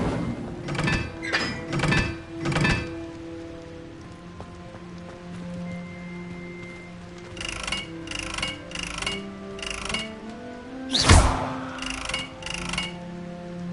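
Fire spell Incendio cast repeatedly in Hogwarts Legacy, a series of sharp thudding bursts in clusters with a crackling whoosh, separated by quieter gaps with faint tonal game ambience.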